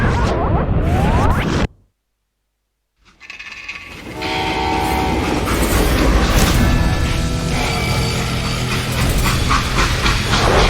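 A loud steam train rumbles and clatters along the rails with a sustained whistle tone, after a short burst of noise and a second of silence, in the video game Call of Juarez: Gunslinger.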